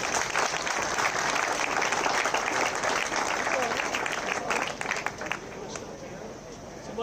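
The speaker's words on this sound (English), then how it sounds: "Let's give these guys a big round of applause, please." Audience at a high school state championship ceremony applauding loudly and steadily, dense clapping mixed with crowd babble throughout, easing only slightly near the end.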